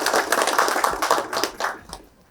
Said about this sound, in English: This calls for a huge round of applause.